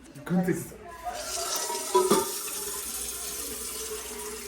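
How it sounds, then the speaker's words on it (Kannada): Water runs from a tap into a metal vessel being filled to sit as a weight on a mutton biryani pot for dum, a steady splashing stream with a few louder clanks early on. "ಇವಾಗ ಇದ್ರ ಮೇಲೆ ಆ ಥರ ನೀರು ತುಂಬಿಸಿ ಪಾತ್ರೆ ಇಡೋದು"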